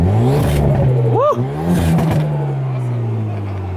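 Engine of a Bisimoto-built Hyundai hot hatch, shown at the 2019 SEMA show, revs briefly and drones near and loud while a person cheers over it.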